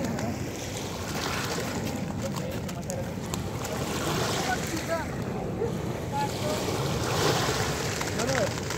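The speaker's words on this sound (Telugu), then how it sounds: "చూడండి అలలు ఎట్లా వస్తున్నాయో." Waves on the River Thames at Greenwich lap and wash steadily against the bank, with gusty wind buffeting the microphone and someone talking over the water.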